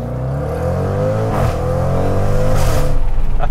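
A 2022 Jaguar F-Pace SVR's engine revs hard through its dual exhaust with a deep, throaty rumble, rising and falling loudly and continuously without any talking.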